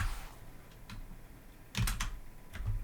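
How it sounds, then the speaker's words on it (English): Keys pressed on a computer keyboard in a classroom setting, a short cluster of clicks near 1.8 s plus a few softer taps around it, close and fairly quiet, with no talk over them. "Hold down Windows key, hold down Shift, and hit S."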